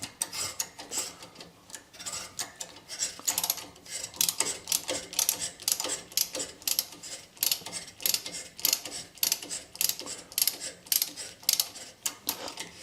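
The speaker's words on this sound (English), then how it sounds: "And this is a thread cleaning tap as well." Thread cleaning tap worked by hand into the oiled threads of a Land Rover heavy duty axle, a steady run of ratcheting metal clicks and grinding scrapes repeating in close, busy bursts.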